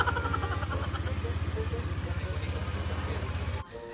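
A motorcycle engine is started for a test run after being returned to stock and runs with a steady, fast, loud pulsing idle for several seconds before cutting off abruptly near the end.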